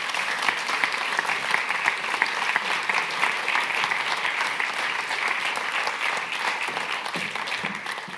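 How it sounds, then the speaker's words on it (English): An audience at a tech festival applauds steadily as people come onto the stage, a dense, even patter of many hands clapping that runs throughout at moderate loudness. "everyone please give them a round of applause"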